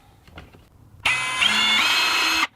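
A power drill bores a hole in wood while a DIY acoustic panel is being built, a loud steady whine that rises slightly in pitch partway through, starting abruptly after some faint handling noise and stopping sharply after about a second and a half.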